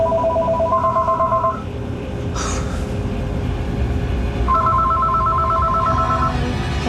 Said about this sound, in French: Je suppose que la sonnerie du téléphone leur a fait très peur.